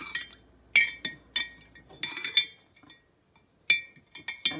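A spoon stirs honey into a ginger cold syrup in a glass, giving bright, close clinks in irregular clusters with quiet gaps between.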